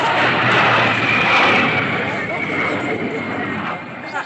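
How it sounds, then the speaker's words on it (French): Broad roaring jet noise of an airplane passing overhead, loud and sustained, slowly fading toward the end. "c'est un avion."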